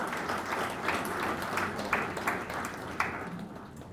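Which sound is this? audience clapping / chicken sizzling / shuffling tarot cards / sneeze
audience clapping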